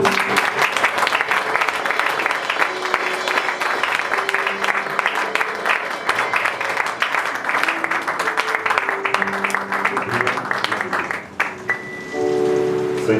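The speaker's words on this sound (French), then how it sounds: "Est-ce que tu peux acclamer pour la gloire de Dieu?" Church congregation at a French-language consecration service applauding, loud sustained dense clapping from many people that fills the space for about eleven seconds, then drops away as faint voices and tones follow.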